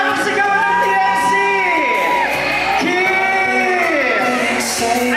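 A large crowd at a live event yells and whoops a chant together, loud and sustained with rising and falling voices throughout.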